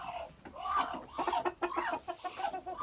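A hen clucking close by at a backyard coop, a steady run of soft throaty clucks that rise and fall for about three seconds, no voices.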